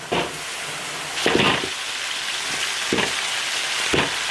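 Beef bones sizzle loudly while being stir-fried in a big iron wok with spices, Sichuan peppercorns and dried chillies, a steady close frying hiss broken by several scraping stirs.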